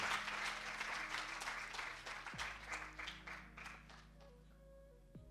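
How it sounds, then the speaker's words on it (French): Applause from an audience at an awards ceremony, a fairly quiet, sustained patter of clapping that thins and fades toward the end, with a faint hum underneath. "Est-ce qu'on peut applaudir, s'il vous plaît?"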